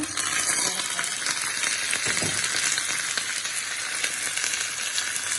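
Lamb brain mixed with turmeric and salt fries alongside sautéed onions and chillies, giving a loud, close, unbroken sizzle with bright crackling throughout and no voices.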